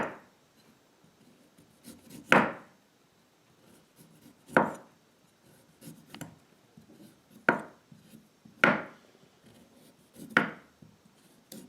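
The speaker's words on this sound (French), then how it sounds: "J'enlève la pellicule externe." Puntarelle chicory having its thin outer skin peeled off, giving a series of sharp, close scraping rasps at irregular intervals over quiet background, with no talking.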